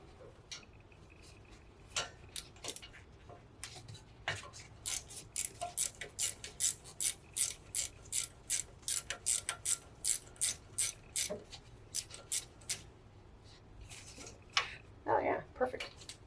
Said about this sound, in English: take off this bolt that holds the bracket